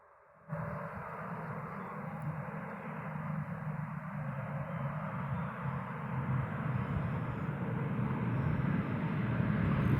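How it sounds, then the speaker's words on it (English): An airplane comes in to land at a small airport in Morristown, Tennessee, its engine a steady, broad drone that rises in from the start and swells slightly louder throughout, with no talking. "Oh, we got one coming in for a landing."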